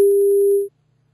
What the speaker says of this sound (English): we will hear an enveloped sine wave